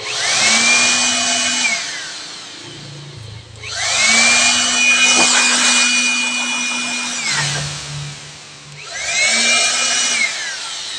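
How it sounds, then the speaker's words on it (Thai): Cooling fan of a SUOER SUA3000A inverter under repair, whirring steadily in three loud bursts with a constant whine, starting, holding and winding down between them; no talk. "พัดลมก็หมุนแล้วนะครับ"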